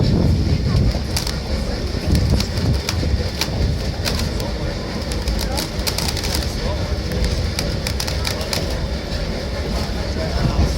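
An 1880 steam locomotive weighing about 222,000 pounds and burning used motor oil runs on rails in the Black Hills, giving a steady, loud rumble and clatter with sharp metallic clicks throughout, while birds call faintly and a voice talks over it.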